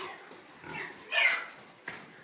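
Landrace pigs on a farm give a few soft, close grunts, with a louder snorting burst midway and a short sharp grunt near the end, against a quiet background.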